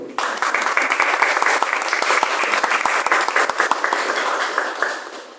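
Strong audience applause with many sharp individual claps standing out in the wash, starting abruptly and holding loud and steady before easing slightly at the end.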